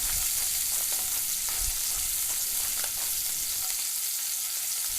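Sea scallops sear in a hot pan, seasoned with salt and pepper, giving a loud, dense, unbroken sizzle and crackle close by.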